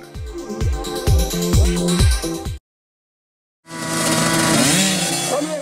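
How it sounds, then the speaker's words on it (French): Racing motorcycles at the Maluku race in 2018, loud close engines with sharp repeated revving bursts, then a brief silence before a sustained high-pitched roar as a bike passes. "En moto minime, Horton Lopez remporte la victoire pour sa première course"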